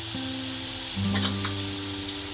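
Potatoes frying with chili powder, coriander-cumin powder and turmeric powder for bhungla bataka, a continuous close sizzle with a faint stir near the middle, no talking.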